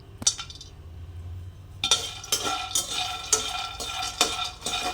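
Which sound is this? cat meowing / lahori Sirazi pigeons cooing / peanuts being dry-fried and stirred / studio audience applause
peanuts being dry-fried and stirred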